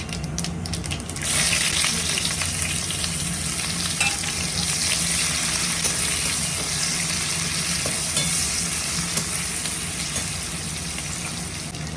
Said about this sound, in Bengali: আমি শুকনো ঝাল ফোড়ন দিচ্ছি, দুটো গোটা জিরে দিয়ে পেঁয়াজ কুচি